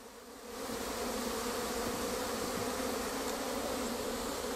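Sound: bees buzzing around a hive frame

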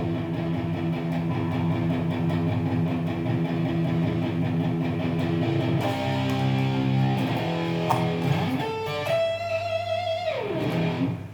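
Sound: electric guitar distorted through amplifier

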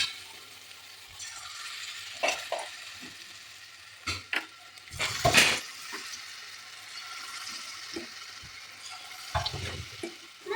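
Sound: cauliflower fritters frying in oil

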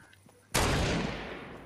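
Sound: gunfire in the video game Fortnite

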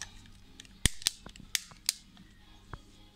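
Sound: toy pistol clicking

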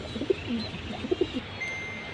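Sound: pigeons cooing

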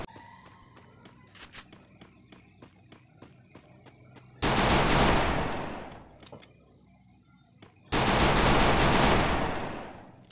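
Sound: M500 gunfire in the video game Free Fire

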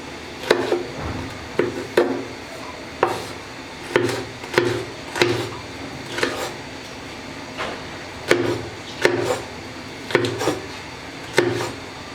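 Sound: chopping okra into pieces

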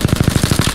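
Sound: gunfire in the video game Apex Legends

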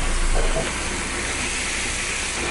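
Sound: ground beef sizzling in a pan over medium heat

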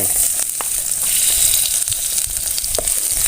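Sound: garlic frying in hot oil in a pot

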